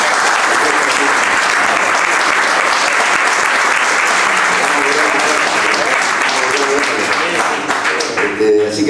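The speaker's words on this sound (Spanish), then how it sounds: "un aplauso para Hugo." Loud, sustained applause from a theatre audience at a tango music concert, steady clapping throughout that thins out near the end.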